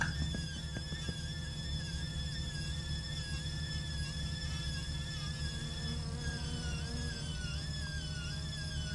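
Car engine in My Summer Car running with a badly adjusted, smoking setup, giving a continuous high-pitched squeal with wavering tones over a steady low engine drone.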